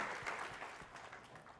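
An audience at a book talk on Harlem Rhapsody by Victoria Christopher Murray claps briefly, a soft, fairly faint patter of many hands.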